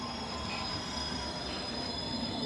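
A train's wheels squeal steadily against the rails through an evening in London, a loud continuous metallic screech with rumbling underneath and no talking.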